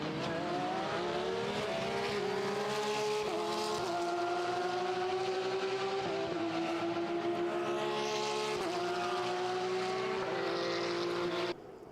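Porsche race cars of the Porsche Sports Cup Suisse at Monza roar past in a continuous loud engine drone, pitch climbing through repeated upshifts with brief dips between gears, sustained and close for the whole stretch.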